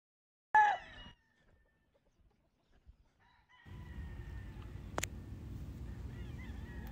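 Chickens on a poultry farm, with one loud close rooster-like call at the start, faint scattered sounds in a quiet stretch, then a steady low background rumble with one sharp high cry.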